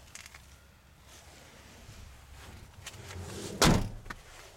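A door on a 2011 Dodge Dakota Big Horn truck with four small doors and a jump seat shuts once with a single loud thud near the end, after quiet handling noises.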